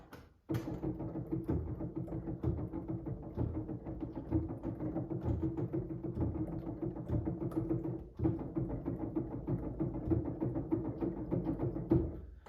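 Rapid muffled thumps and clacks of Yamaha AvantGrand N1X hybrid piano keys pressed in quick succession in silent mode, a dense soft rattling with no musical tones, quiet and close.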